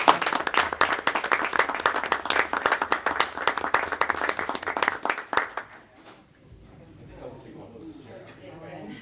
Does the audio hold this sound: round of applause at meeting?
yes